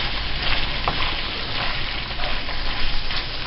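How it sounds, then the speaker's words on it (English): Mushrooms and garlic fry in a pan for a bolognese, a continuous crackling sizzle with soft stirring scrapes, moderately loud and even throughout. "I'm doing this one-handed down with the mushrooms and the garlic to mix around"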